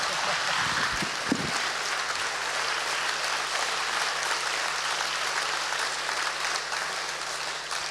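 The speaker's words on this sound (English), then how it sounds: "Please, round of applause." Sustained applause from a theatre audience at a playhouse season launch, a dense even clatter of many hands that holds for the whole stretch, with a brief low voice near the start.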